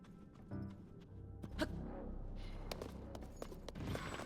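Horse hooves clip-clop with a brief neigh in Tears of the Kingdom, game sounds over a low rumble, moderately loud and near.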